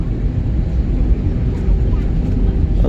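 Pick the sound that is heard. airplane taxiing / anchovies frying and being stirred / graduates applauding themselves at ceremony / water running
airplane taxiing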